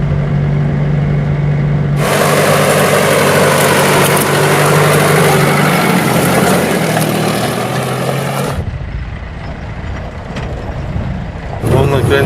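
Car and truck engines on a rough road along the BAM railway roar loudly and close, with a heavy low drone as vehicles pass, then drop to a quieter idle before another surge; voices are faintly mixed in.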